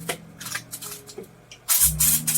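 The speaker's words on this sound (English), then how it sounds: "And then just spray it again" A handheld sprayer mists extra virgin olive oil over vegetables being prepared for roasting: one sharp, loud hissing burst near the end, after soft kitchen handling noises.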